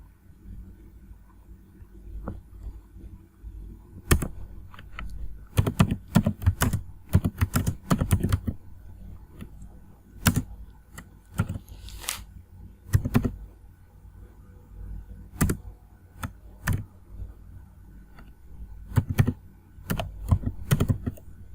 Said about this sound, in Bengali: এক্সক্লেমেটরি চিহ্ন এবং ট্যাবটা প্রেস করব কিবোর্ড থেকে